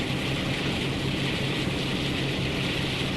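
A twin Maybach diesel engine on a Western class locomotive in Train Sim World 2 drones steadily, a loud sustained rumble with a constant hum and no breaks.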